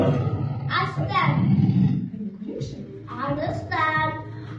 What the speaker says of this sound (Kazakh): Арыстан.